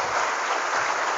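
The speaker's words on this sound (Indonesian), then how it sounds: "Tepuk tangan untuk kita semuanya hari ini" Dense, even applause from an audience at a school Heroes' Day motivational event in Tangerang, many hands clapping steadily with no voices over it.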